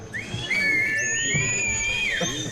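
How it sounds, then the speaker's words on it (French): A whistle is blown at the start of a muddy night trail race in Guadeloupe, a long, loud, wavering shrill blast with shifting pitch, close by. "Siffle!"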